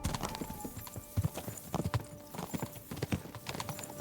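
Horse hooves clip-clop in an irregular trotting rhythm while a horse is ridden in a video game, clear and close with no other sounds.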